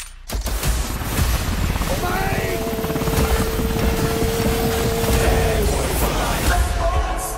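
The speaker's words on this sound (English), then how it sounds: "Where the hell are you getting all these helicopters?" A helicopter's steady rotor drone fills the scene alongside loud, dense game-like action noise with booms and a rising whine.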